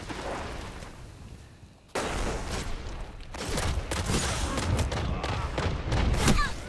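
Bursts of gunfire in the video game Destiny during a 6v6 PvP Inferno match, a dense run of rapid shots and booms building louder toward the end, with no talking over it.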